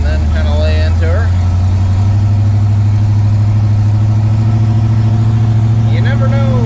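A rebuilt Chevrolet C10 truck engine drives along a roadside. It gives a loud, close, throaty rumble that holds steady and swells slightly as it pulls, and brief voice sounds appear over it.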